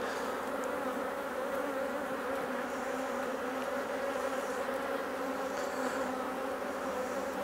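Flighty honey bees swarm around an open hive, a continuous loud, even buzzing drone with no voices.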